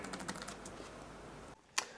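Quick typing on the keyboard of a dynabook X83 laptop with 2 mm key travel, a close, soft run of rapid clicks for about a second and a half, then a brief pause and one sharper keystroke.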